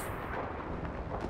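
Artillery fire in the WWII video game Enlisted, set in Normandy: a dense, rumbling blast that fills the short clip with heavy low booming and debris, loud and unbroken.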